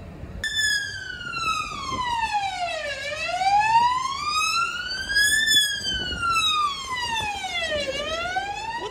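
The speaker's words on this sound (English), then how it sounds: "Is that Santa I can see? In the ambulance?" An ambulance siren wails nearby in a continuous rising and falling sweep, loud and steady throughout with no voices over it.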